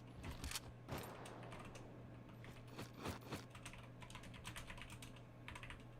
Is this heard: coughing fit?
no